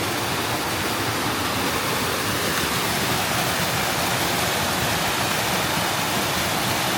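Fairy Falls, reshaped by flooding after Hurricane Helene, pours with a steady, dense roar of falling water, close and loud throughout with no voices.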